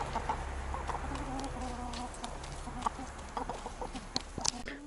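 Backyard hens in Kuban, Russia, during June heat give soft repeated clucks and a few sharper calls near the end, quiet and somewhat distant, no voices present.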